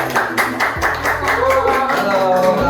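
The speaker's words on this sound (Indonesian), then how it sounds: "Kasih tepuk tangannya dulu." Audience clapping to welcome a guest at a Jogja food talk about Sate Samirono, a short burst of hand claps that quickly fades, with talking and background voices over it.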